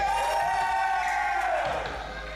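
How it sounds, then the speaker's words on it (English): A wrestling arena crowd cheering a winner whose hand is raised, a sustained roar of voices and whoops filling the space, steady throughout and fading slightly at the end. "Hand raised, and the crowd loves it."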